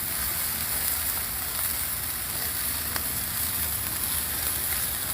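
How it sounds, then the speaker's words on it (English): Sirloin steaks searing hard on a Blackstone griddle, an even, loud hiss and crackle that runs unbroken throughout with no talking. "we're just going a really hard sizzle on the first side"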